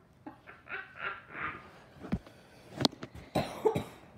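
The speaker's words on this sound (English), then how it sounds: "Why do you laugh and then cough at the end?" A few rough cough bursts close to the mic follow some breathy, laugh-like sounds, with short pauses between them.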